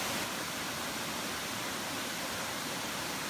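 A waterfall at the end of a short hiking trail gives a steady, even rush of falling water, fairly soft and continuous without pause, with no one speaking.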